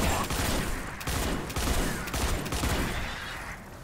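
Repeated bursts of gunfire from a video game weapon, crackling in quick clusters that fill the clip at steady loudness.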